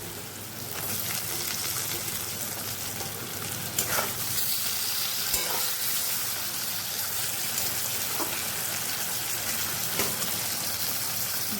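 Tomatoes frying with onions in a pan, a loud, steady sizzle and hiss with a few faint clicks of stirring throughout.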